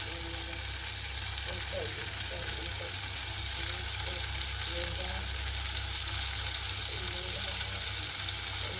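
Large onions frying in a pan, giving off a dense, steady sizzling hiss that runs evenly throughout, close and fairly loud, with faint stirring scrapes and no clear talk.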